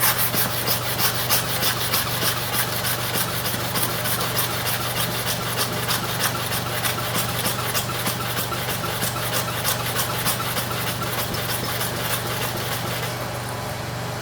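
Steady, loud rasping rub of a hair clipper blade worked back and forth on a sharpening stone, continuous and close, with a low electrical hum underneath and no talking.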